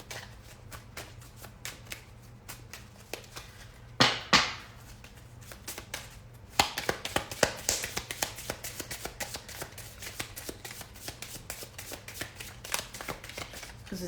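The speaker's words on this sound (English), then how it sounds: "I'm going to just shuffle these cards." A deck of reading cards being shuffled by hand, with repeated soft riffling flutters and sharp card slaps, close and fairly quiet, with no talking.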